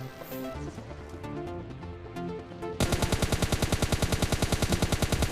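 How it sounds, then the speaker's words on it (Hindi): Rapid automatic gunfire in PUBG Mobile Lite starts partway through, a steady loud burst of shots following a stretch of quieter game sound. "तभी अचानक वो बग्गी वाला बंदा फिर से आ जाता है और मुझ पर फायरिंग करने लगता है।"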